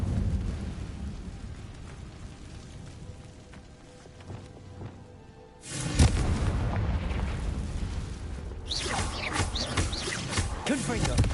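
Fire spell blasts cast in Hogwarts Legacy: a low rumbling scene erupts into a loud, roaring burst midway, followed by a second fiery surge a few seconds later.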